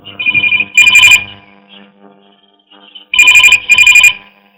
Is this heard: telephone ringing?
yes